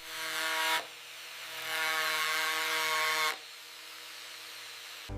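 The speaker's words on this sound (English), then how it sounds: "Every rough edge is smoothed by hand." A milled denture has its rough edges smoothed with a small handheld rotary tool, giving a steady whining grind that runs for several seconds, cuts out briefly, resumes and then stops.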